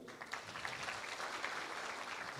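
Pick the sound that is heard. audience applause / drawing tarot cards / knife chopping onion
audience applause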